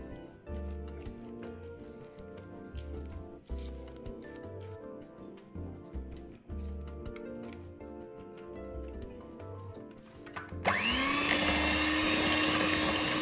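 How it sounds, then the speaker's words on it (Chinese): Electric hand mixer beating room-temperature softened butter at medium speed for a pandan butter cake, a steady near whirring that sets in near the end after a stretch of background music. "再用打蛋器中速打發，打至顏色變淺以及蓬鬆，約3到5分鐘"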